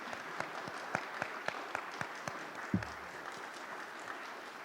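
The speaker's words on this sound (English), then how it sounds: "So let's please give everybody a big round of applause" Audience applause at a President's E and E-Star export awards ceremony, moderately distant, with distinct individual claps standing out from a soft clapping wash and one low thump midway.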